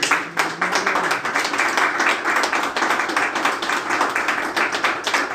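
A church congregation claps together in a dense, continuous round of applause with a steady rhythmic patter that holds for several seconds.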